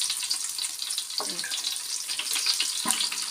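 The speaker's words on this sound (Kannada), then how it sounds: "ಈಗ ಗೋಲ್ಡನ್ ಕಲರ್ ಆಗೋಂಗೆ ಫ್ರೈ ಆಗಬೇಕು ರೀ" Onions fry in hot oil in a pan for a North Karnataka chhoda recipe, crackling and spitting in a bright, continuous sizzle close by, with a couple of soft knocks from the pan and no one speaking.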